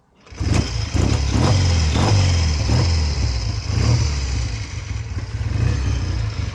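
A 1962 Triumph T90 motorcycle engine runs loud and close, with a string of throttle blips in the first few seconds before settling into a steady, rough, throbbing drone.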